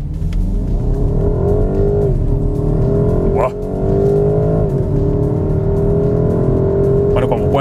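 A BMW 128ti accelerates flat out in Sport mode, its engine note climbing loudly through the gears with brief dips at the shifts, heard from the cabin.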